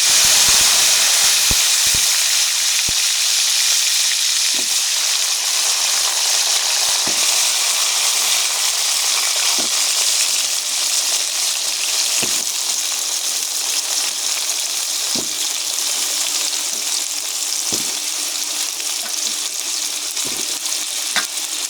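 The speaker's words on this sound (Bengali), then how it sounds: "তেল গরম হয়ে গেছে, এখন আমি মিষ্টি কুমড়াগুলো দিয়ে দেবো।" Pumpkin pieces fry in hot oil for Bengali hilsa-head pumpkin ghonto, giving a loud, steady sizzle and hiss throughout, broken by occasional clicks and stirring knocks, with no voices.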